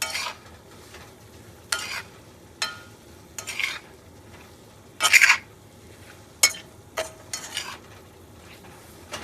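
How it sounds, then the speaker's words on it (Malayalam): Cauliflower thoran is stirred in a pan, with scattered spoon scrapes and metallic clinks against the pan over a faint low background. "നമുക്കൊന്ന് തുറന്നിളക്കി നോക്കാം കേട്ടോ"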